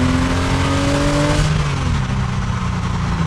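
A Porsche Boxster 986 engine revs at around 2,500 RPM, a loud close steady drone with a clear rising tone that shifts and settles halfway through, with no talk.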